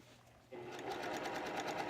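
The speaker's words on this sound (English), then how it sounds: "I'm just going to stitch this for a second so you can see what it looks like." A sewing machine stitches bias tape trim onto a little black dress. It starts abruptly after a quiet moment and then runs at a steady, rapid rhythm, fairly faint.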